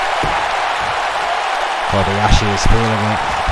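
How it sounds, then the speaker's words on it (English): A capacity crowd at a wrestling show roars as a steady wash of noise, swelling briefly, while a commentator talks over it. "feeding off this capacity crowd."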